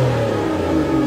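A 6.0-litre V12 in an Aston Martin Vanquish holds a brief, loud, smooth engine note, steady and close, with no talk.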